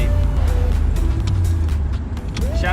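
A 1966 Corvette engine pulling hard while driving, a loud, close, steady rumbling roar with constant road and wind noise, no talking.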